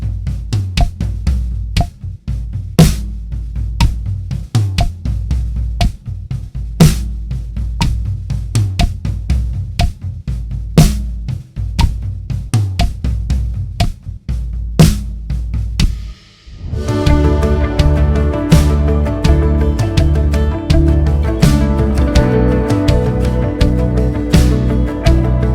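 A steady, slow halftime drum kit groove in a church worship style, with kick and snare hits, then fuller instruments join in midway and play on together at a lively volume.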